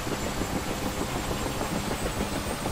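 A UH-1H Huey helicopter turbine engine in the DCS flight simulator gives off a loud, steady, broadband mechanical drone with a low rumble, holding nearly constant throughout without any voices.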